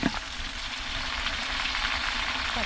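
Chopped tomatoes poured into hot oil for a vegetable biryani cooked outdoors in a garden, an immediate loud sizzle that holds steady and close, with a brief clatter at the start.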